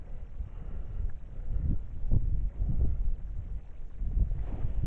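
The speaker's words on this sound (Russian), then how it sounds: "Прячусь от ветра, камеру под себя. Очень дует." Strong blizzard wind buffets the microphone during ice fishing, a steady low rumbling roar with gusty surges throughout, close and loud, with no talk.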